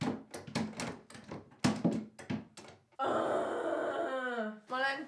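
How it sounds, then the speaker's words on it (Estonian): Wooden drawers being slid and knocked into a self-built bed frame, a run of sharp thunks and bumps, close and loud, followed by a longer scraping slide. "Aga nüüd on vaja ainult sahtlid sisse panna."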